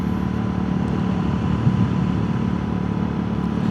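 A Royal Enfield Guerrilla 450 motorcycle fitted with an Arrow silencer cruises in fifth gear, a steady close engine drone with an even low rumble throughout.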